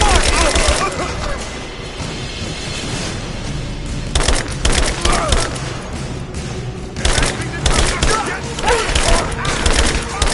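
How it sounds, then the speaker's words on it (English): Gunfire in the video game Rise of the Tomb Raider: bursts of rapid automatic shots and heavy thumping impacts come in several clusters, loud and close, with shouted voices in between. "Open fire! Keep her down! Suppress fire!"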